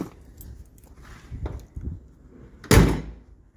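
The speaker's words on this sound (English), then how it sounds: "You can always count on a solid door shut." A 1968 Ford XL convertible door swings shut with a single solid, heavy thunk close by, preceded by quieter handling and latch noises.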